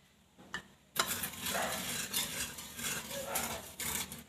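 Sugar and a little water stirred in a pan over low heat to make caramel for a custard caramel pudding, with a steady scraping and stirring rasp and a soft sizzle, close and continuous after a brief knock.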